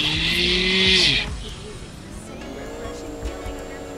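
A fast car in GTA IV, its engine climbing in pitch and then dropping off sharply as a high hiss cuts out. A second, lower engine tone rises afterward, with impacts and faint voices underneath.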